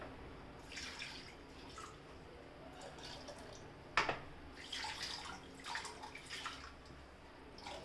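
Ground rasam paste and water poured into a cooking pot: faint splashing and trickling with scattered drips, broken by one sharper knock partway through. No one speaks.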